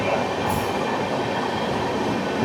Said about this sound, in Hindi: अब लग गई हमारी रेस अजमेर अमृतसर एक्सप्रेस